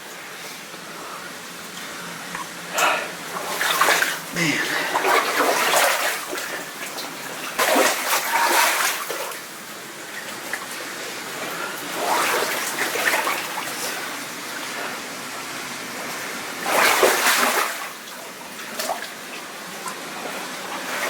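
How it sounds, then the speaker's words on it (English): Rushing water churns steadily into a pool, with splashy bursts rising and falling; someone speaks briefly over it. "I hear a fair amount of rushing water."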